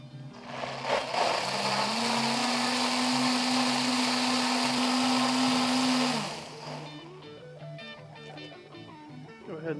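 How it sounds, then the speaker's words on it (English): A blender mixing jalapeno sauce with sour cream whirs loudly for several seconds with a steady high-pitched motor drone, then spins down and stops, leaving quiet clatter. "Everything into your blender and do it."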